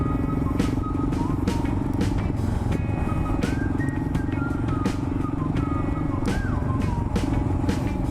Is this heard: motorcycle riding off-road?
yes